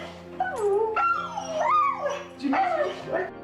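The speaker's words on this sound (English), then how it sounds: "It's like his dog is telling him all about what happened while he was gone." German Shepherd greeting its owner, a soldier just back home, with a long, close, loud string of wavering howls, whines and yips that rise and fall in pitch like talking.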